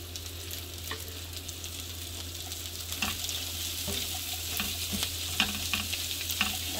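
Carrots and cabbage stir-fry in a pan with a steady, quiet sizzle under repeated clinks and scrapes of a spatula, close by, with no voices.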